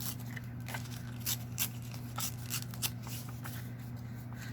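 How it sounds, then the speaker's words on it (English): A book page is torn by hand for a paper collage, a few short dry ripping bursts spread over a few seconds against a steady low hum. "So I'm going to tear a little of this off."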